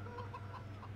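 Chickens clucking in the Farming Simulator 17 video game, a soft steady run of low farmyard clucks with a faint hum beneath, heard briefly on their own.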